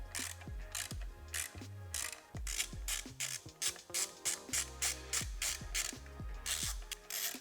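A long screw is driven into a new breather on a Harley-Davidson Road Glide, giving a steady run of rapid ratcheting clicks, close and fairly loud, with brief pauses between strokes and no talking.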